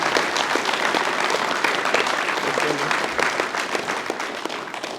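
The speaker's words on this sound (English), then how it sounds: "So can we get a big round of applause for these people?" A crowd applauds parents and a fundraising committee at a school rugby team naming event, dense continuous clapping, loud and sustained throughout with a few faint voices mixed in.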